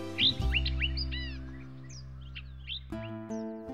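Birds chirping and trilling in a courtyard among trees and flowers, quick bright calls clustered at the start and again near the end over a sustained low musical drone.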